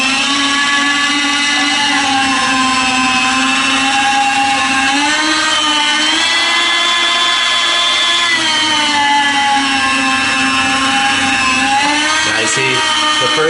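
A motorized deli slicing machine cuts sous vide roast beef for sandwiches, giving a loud, steady whine with a droning hum that rises and dips slightly over a long continuous run, with no talking.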